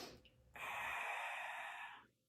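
Close breathing during a held back-strengthening exercise: a quick soft inhale, then one long, steady, airy exhale that fades out, with no talk.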